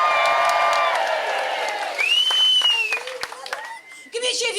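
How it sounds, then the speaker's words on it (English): A comedy club audience at a women's stand-up comedy final cheers and applauds loudly, with whoops and shouts rising over sustained clapping, then tapering into scattered calls before a short fresh burst. "Give me a cheer if you're here to support somebody this evening"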